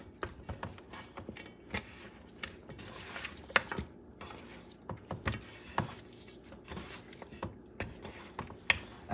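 Oxtails being mixed by hand with seasoning and Worcestershire sauce in a bowl: quiet, wet squelching and soft knocks against the bowl come in irregular bursts, close and faint.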